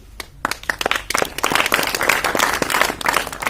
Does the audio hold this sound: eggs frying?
no